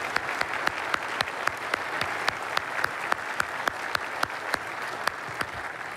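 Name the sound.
applause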